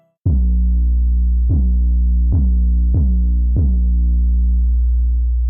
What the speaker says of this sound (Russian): Послушаем еще раз саб вместе с параллельным каналом.